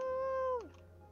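In the video game Calico, a cat lets out a single clear, tonal meow that falls in pitch at the end, close and alone over a low background hum.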